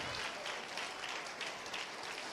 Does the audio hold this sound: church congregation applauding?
yes